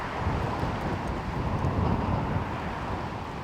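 Wind blows across an outdoor disc golf course in Las Vegas, a steady, gusty rumble buffeting the microphone with no voices.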